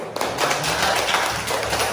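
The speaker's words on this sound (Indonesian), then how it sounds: "Tepuk tangan buat kopi dulu" Classroom of primary-school pupils clapping together for classmates, a dense, steady patter of many small hands filling the room for about two seconds with no talking.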